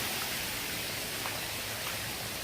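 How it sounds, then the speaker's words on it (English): River flowing at Mahogany Bay, a dense, even wash of rushing water, close and constant with no other sounds over it. "Got a river on this side"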